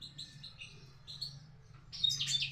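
Pet birds chirp while drinking water in hot weather, giving close, bright tweets in short bursts that get louder toward the end, over a low background hum.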